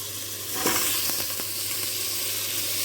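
Potatoes dropped into a pan of browned onions, producing a steady close hissing sizzle with a few brief clatters near the start, and no talking.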